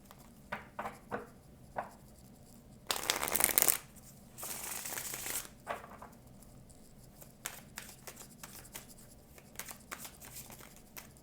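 Tarot cards are shuffled by hand for a cross-shaped reading, giving soft repeated riffling bursts and ruffles, with two louder, longer shuffles in the middle and light card taps and flicks around them. No one speaks.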